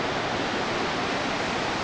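Turbulent water churns steadily beside a hydroelectric dam next to its electrical building, a dense, even rush close by with no talk.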